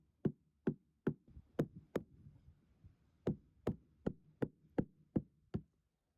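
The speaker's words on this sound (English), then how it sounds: "now I'll push that plastic dam into the clay with a mallet" A mallet drives a plastic dam into clay with about a dozen sharp, dull knocks at a steady rhythm, broken by one short pause partway through, heard close and alone.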